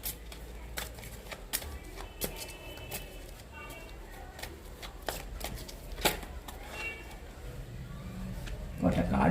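Tarot cards being shuffled by hand during a love reading, with a steady patter of soft snaps and riffles close by and a voice faintly present underneath.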